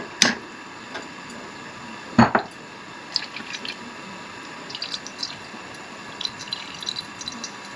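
Water and egg drip from chicken pieces draining in a kitchen sieve: scattered soft drips and small metallic ticks, with two sharper clinks early on, all faint with no talking.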